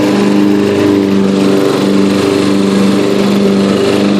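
A Yard King riding lawn mower engine runs loud and close with a steady droning hum, its pitch holding even throughout with no pauses.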